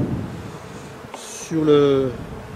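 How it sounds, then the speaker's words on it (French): Honeybees buzzing as they are shaken off a hive frame during a spring hive inspection, a soft droning hum that swells louder for a moment near the end, with someone speaking briefly. "Je secoue les abeilles, voilà, tout simplement."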